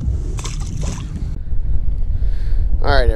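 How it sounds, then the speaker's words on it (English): Strong wind over Otisco Lake buffets the microphone during a fishing outing, a loud rumbling gust that swells midway, with a voice briefly heard under it near the end. "Sorry about the wind. It's kind of picked up pretty bad here."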